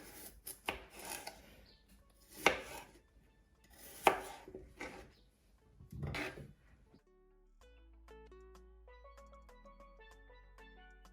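A knife slices through baby potatoes on a board in a handful of crisp, separate strokes spaced a second or two apart, followed by soft background music.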